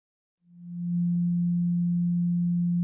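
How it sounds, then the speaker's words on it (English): A pure 174 Hz solfeggio tone fades in smoothly, then holds as a steady, deep, unwavering hum, loud and alone until the end. "Here is the 174 Hertz frequency."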